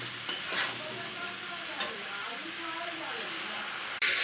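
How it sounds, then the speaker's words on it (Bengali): Vegetable stems, green banana and potato frying in hot oil for a stem-and-banana curry, with a steady close sizzle and a few sharp spoon clicks against the pan as they are stirred. "তারপরে ডাঁটা, কলা, আলু দিয়ে নুন দিলাম, দিয়ে নাড়াচাড়া করতে হবে, একটু ভাজা ভাজা হবে"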